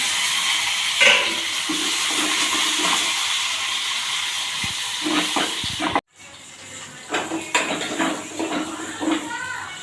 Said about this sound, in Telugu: తాలింపు వచ్చేసి బాగా అయితే వేగింది